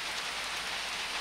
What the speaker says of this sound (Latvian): Pirmīt likās, ka vispār krusa kaut kāda krīt.